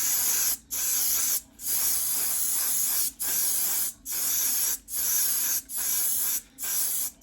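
Short bursts of spray paint laying a first thin skin coat onto a painted monster model kit, seven or eight hissing blasts in a steady rhythm with brief gaps between, close and fairly loud with no talking.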